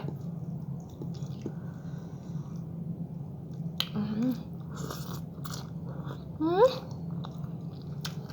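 Someone eating khanom jeen rice noodles close to the microphone, with soft wet chewing and slurping over a low hum, plus a few sharper bites and a brief squeak of a voice.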